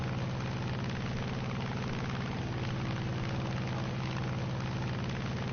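Grumman F6F-5N fighter plane engine in a PS4 flight game, a steady low propeller drone that holds even and unbroken at moderate loudness with no voices over it.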